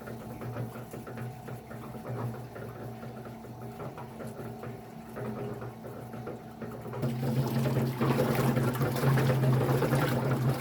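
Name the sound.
water being poured into a Harbor Freight cement mixer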